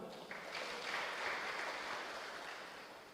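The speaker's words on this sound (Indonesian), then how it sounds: "Yang setuju sepakat tepuk tangan dulu buat Tuhan." A church congregation applauds for God during a Christmas sermon, a soft, even wash of many hands clapping at a distance with no voices over it.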